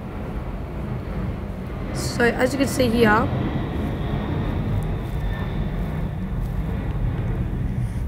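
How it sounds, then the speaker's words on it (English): A propeller aeroplane passes overhead in the game Base Raiders, a steady droning hum with a brief rising whine. Someone talks over the low engine drone. "let that aeroplane go past."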